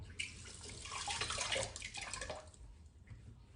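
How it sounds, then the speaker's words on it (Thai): Hands rinse under a running tap, a splashing water stream that swells then thins out, fairly quiet and close, with faint dripping toward the end. "นี่นะคะล้างมือนิดนึง"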